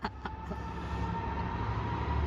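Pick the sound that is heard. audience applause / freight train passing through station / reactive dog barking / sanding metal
freight train passing through station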